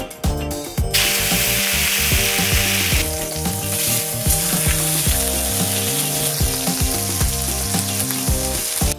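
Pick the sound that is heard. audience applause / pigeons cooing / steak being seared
steak being seared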